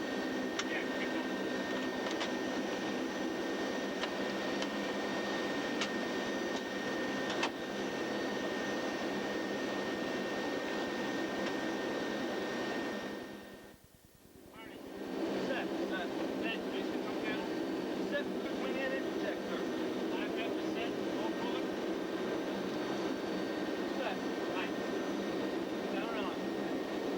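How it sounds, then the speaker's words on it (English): A P-3 turboprop aircraft taxiing out toward the active runway, its engines a steady, loud, continuous drone from close by that dips briefly midway before resuming at full level. "Getting ready to take off, taking the active runway right now."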